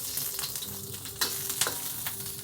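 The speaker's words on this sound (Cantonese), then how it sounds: "加啲油，中大火啦，將啲薑葱蒜啦爆香佢先" Ginger, scallion and garlic stir-fried in oil over medium-high heat, a dense close sizzle with quick scraping stirs, for braised tofu with roast pork belly.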